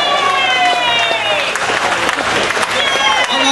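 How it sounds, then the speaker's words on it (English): A round of applause from an audience at a Berks History Center music event, steady clapping and cheering, with voices mixed in. "give them a round of applause"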